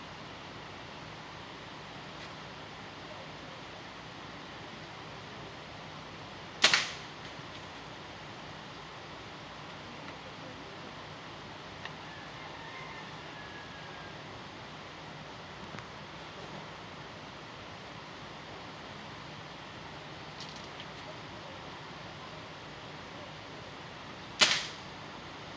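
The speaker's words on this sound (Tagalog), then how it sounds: "sniper type PVC button power PVC toy gun" A butane-powered sniper-style PVC toy gun fires two sharp, isolated shots several seconds apart over faint outdoor background noise.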